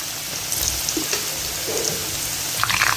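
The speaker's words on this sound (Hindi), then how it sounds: "हमें इसको लाइट आंच पे फ्राई करना है, मीडियम टू लो पे।" Potato chips frying in oil over medium-low heat, a dense crackling sizzle with bubbling pops, close and fairly loud for a few seconds, with no voices.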